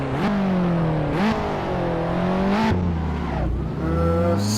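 A race car engine revs and accelerates hard off the start line in Assetto Corsa on the Goodwood Festival of Speed hill climb, loud and close, the pitch climbing through several quick gear changes.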